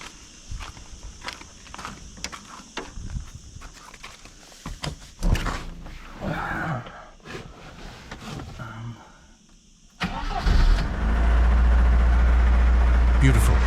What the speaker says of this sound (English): Let's get back behind the wheel and see if we can get the car running.